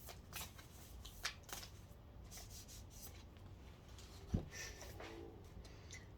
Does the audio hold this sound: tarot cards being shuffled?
yes